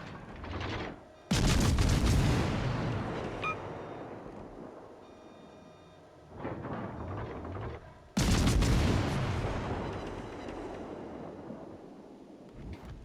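Cruiser guns in a naval warfare game fire shells in heavy booming salvos, two massive blasts with long rumbling decay and a smaller volley between them, loud and close, no talking.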